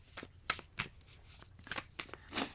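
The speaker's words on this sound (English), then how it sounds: "Anyways, I'm shuffling this oracle deck here." An oracle card deck is shuffled by hand in a quick series of riffling, flicking bursts, close up and fairly quiet.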